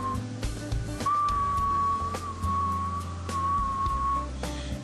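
A boiler tank fill alarm whistle sounds as a single steady, high-pitched tone for about three seconds, clear over a low mechanical hum and a few clanks, then cuts off.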